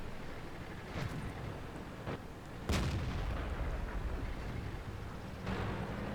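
A tank cannon firing in World of Tanks gives a heavy boom near 2.7 seconds, with smaller thuds around 1 and 5.5 seconds, over a constant rumbling battle background with no talk.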